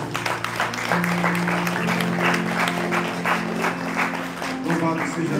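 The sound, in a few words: church congregation applauding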